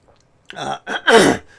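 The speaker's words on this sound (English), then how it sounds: "got a bit of a cough" Close, throaty coughing and throat clearing in three short rough bursts, the last the loudest, with silence between.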